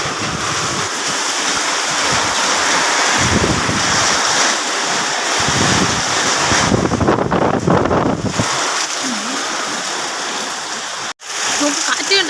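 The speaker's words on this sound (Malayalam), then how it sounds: "ഇപ്പോൾ നല്ല കാറ്റുണ്ട്." Strong storm wind in Palakkad at Sekharapuram, roaring loudly into the microphone in buffeting gusts that swell and ease, with a sharp handling knock near the end.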